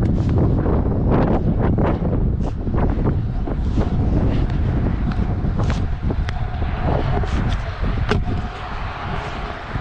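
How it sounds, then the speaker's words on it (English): Strong wind buffets the microphone outdoors at a skatepark, a loud continuous roaring rumble with gusty surges and faint clatter underneath, lasting throughout. "The freaking wind goes like way too fast and I can't get speed."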